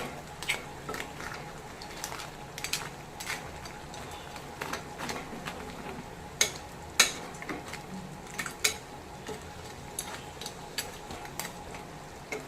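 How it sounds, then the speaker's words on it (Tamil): A spoon scrapes and clinks steadily against a pan while crab gravy masala is stirred, with faint sizzling beneath the irregular metallic taps. "இதையும் சேர்த்து நம்ம நல்லா கிளறி விட்டுக்குங்க."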